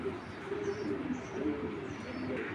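Shapchila Giribaz pigeons coo softly and steadily in a low murmuring drone, close by and continuous over a faint background hum.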